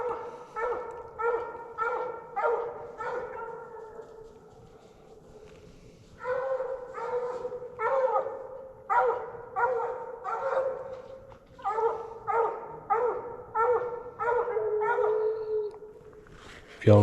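Coon hunting dog baying on a trail at night, with repeated bursts of drawn-out barks and bawls. The bursts come in several groups separated by brief pauses, carrying from a moderate distance with no voices over them.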